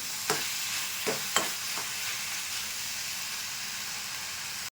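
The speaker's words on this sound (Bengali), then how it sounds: "নারকেলের দুধটাকে অনবরত নাড়ব" A coconut milk filling for dudh puli pitha is stirred in a pan, giving a steady soft sizzle and hiss with a few sharp scraping strokes near the start, close and alone without talk.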